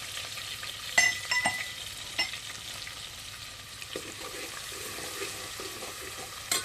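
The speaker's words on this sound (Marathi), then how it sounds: "इथं पातेल्यामध्ये मी तेल गरम करण्यासाठी ठेवलेलं होतं त्याच्यामध्ये आला आणि लसूण ठेचलेला टाकलेलं आहे" Ginger and crushed garlic fry in hot oil in a pot over a wood-fired chulha, giving a soft, steady sizzle with a few sharp clinks of stirring.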